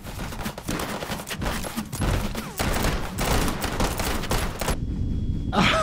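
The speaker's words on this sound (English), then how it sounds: "Oh, that's a lot of flashbangs." Rapid, dense bursts of flashbang grenades going off in the VR game Hot Dogs, Horseshoes & Hand Grenades, a loud continuous barrage of overlapping bangs that suddenly cuts to near quiet at the end.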